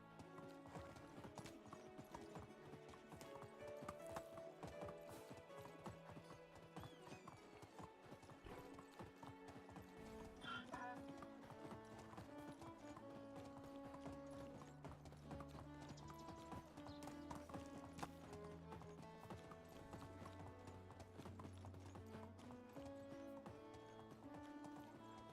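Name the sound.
horse hooves clip-clopping in Medieval Dynasty video game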